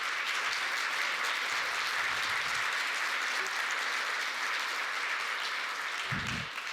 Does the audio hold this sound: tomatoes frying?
no